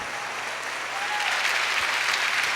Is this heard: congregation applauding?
yes